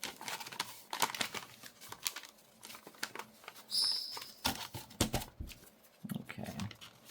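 Paper pages folded in half for a junk journal, giving a string of short crisp crinkles and soft creasing rustles, close and fairly quiet, with brief pauses between folds.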